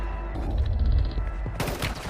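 Gunfire in the mobile shooter Warzone Mobile, a short burst of rapid shots breaking in near the end over a low rumbling game soundscape, loud and close.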